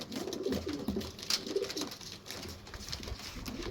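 A pair of low-flying breed pigeons coo softly up close, with a few low, rolling coos repeating over quiet background noise.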